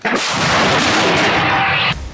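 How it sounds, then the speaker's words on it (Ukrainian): A single loud, booming gunshot with a long rushing roar that sustains for about two seconds, then cuts off abruptly. "Постріл!"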